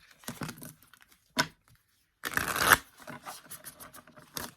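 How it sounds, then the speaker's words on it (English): Papery riffles and snaps of a tarot deck being shuffled, in several short close bursts separated by brief silences. "I heard that some people hate the sound of shuffling"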